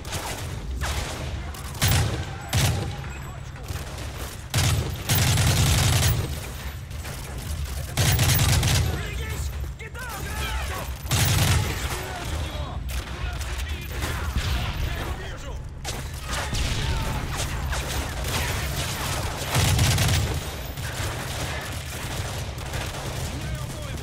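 Heavy exchanges of automatic gunfire in Call of Duty: Modern Warfare 3 during a convoy rescue mission with tanks, with repeated loud bursts and booming impacts over continuous battle noise as voices shout in the background.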